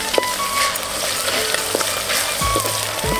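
Ginger garlic paste, freshly pounded, frying in hot oil along with green chillies and onions for a Telangana boti dalcha, a steady close sizzle with a few soft stirring knocks and no talk.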